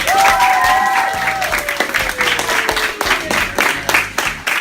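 Audience applause at a Dutch singing-contest event, a steady dense clapping wash filling the whole stretch, with a sustained sung or whistled tone gliding downward through it.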